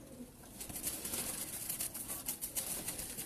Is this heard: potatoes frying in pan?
no